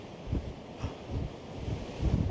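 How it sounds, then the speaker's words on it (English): Strong wind at the southern tip of Africa on a coast with surf nearby, a steady close rumble with gusty bursts buffeting the microphone, no voices. "it's so windy."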